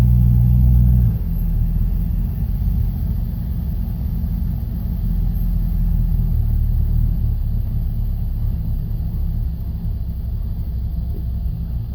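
A 1968 Ford Mustang engine, unrun for 30 years, turns over and catches, settling into a steady deep rumbling idle close by after a louder first moment of starting.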